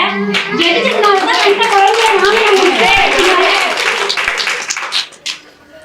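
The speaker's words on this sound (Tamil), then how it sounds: "அடுத்து பாத்தீங்கன்னா அதிகமான கைத்தட்டு" An audience at a women's group debate event applauds with dense, loud clapping, while voices call out over it before the clapping fades away near the end.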